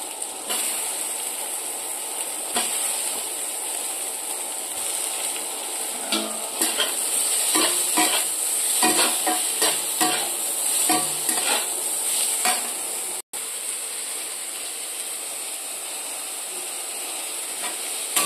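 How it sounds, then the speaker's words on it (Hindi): Onions and soybeans fry in a pan with a loud, continuous sizzle, overlaid by a cluster of sharp stirring clatters in the middle before the hiss settles again. "पियाज भाजी होला पर सोयाबीन पकईदे।"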